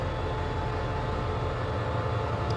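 Train 85 hauled by a QSY locomotive departing Thung Song Junction, a steady low rumbling drone of the engine and rolling stock, continuous and fairly loud with no speech.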